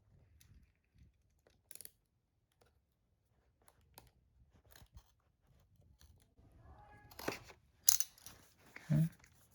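Packaging of a Remarkable 2 paper tablet being torn open: sparse crinkles and clicks, then a burst of louder ripping and crunching paper toward the end, close and fairly quiet.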